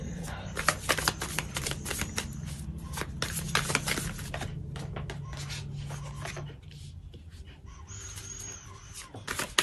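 Tarot cards being shuffled by hand, a run of dry riffling and rasping bursts close up, with brief pauses between handfuls and faint background noise.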